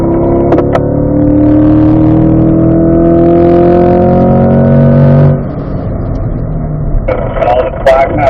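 Race car engine on a track, loud and close with rising harmonic tones as it revs hard toward the limiter, then easing off before a brief burst of higher rasp near the end.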